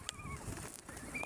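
Pigeons in a snowy outdoor spot give soft coos and brief chirps while wings flutter faintly, a short, quiet moment with light background noise.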